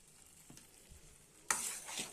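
Broad beans and tomato cook together in a curry pan with masala powder added, giving a faint, quiet sizzle with a few soft scrapes of stirring and a brighter burst of frying hiss partway through.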